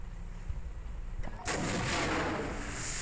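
A tank cannon fires once in the War Machines tank shooter game: a sudden loud boom followed by a sustained roaring rumble, preceded by lower background battle noise.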